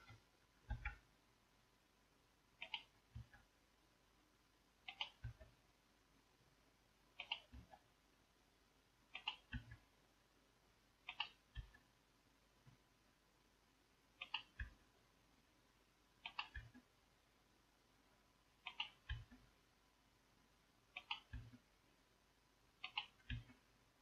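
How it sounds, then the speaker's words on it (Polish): Tab key pressed on a computer keyboard while working in Microsoft Word 2003: single quiet clicks repeated about every two seconds, evenly spaced and close, with no talk. "I używam przycisku tabulacji na klawiaturze."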